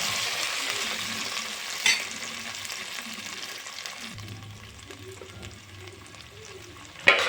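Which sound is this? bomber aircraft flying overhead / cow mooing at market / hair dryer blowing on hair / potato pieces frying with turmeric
potato pieces frying with turmeric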